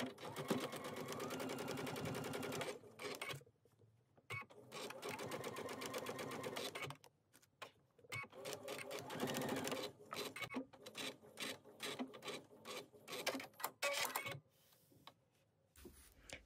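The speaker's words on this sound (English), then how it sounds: "Let's go ahead and stitch our seam." A sewing machine stitches a seam joining quilt blocks in a 4x4 hoop, running in steady mechanical bursts with brief pauses between runs, close and fairly quiet with no talking.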